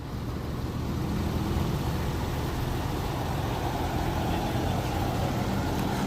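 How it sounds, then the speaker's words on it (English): A flatbed tow truck idles near a Huntington Beach channel after a car crash: a steady low diesel rumble with broad hiss, constant and unbroken throughout, and no talking. "Oh, flatbed tow truck is here."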